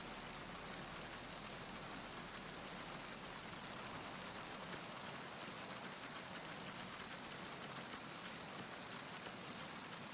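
Rain falling in Metal Gear Solid 2: Substance, a faint, steady hiss of drops with a low rumble underneath, unbroken and without voices.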